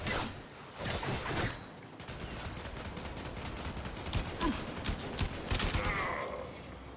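Distant enemy gunfire from the video game Warframe, a faint stream of sharp crackling shots that runs steadily through the stretch with no talk.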